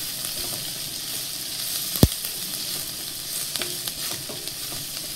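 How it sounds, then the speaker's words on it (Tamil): Onions, green chillies and curry leaves sauté in a pan with a steady hiss of sizzling oil, one sharp clank near the middle and a few light stirring scrapes later, with no talking. "கொஞ்சமாக வெங்காயம், 3 பச்சை மிளகாய், கருவேப்பிலை சேர்த்து நல்லா வதக்கிடலாம்"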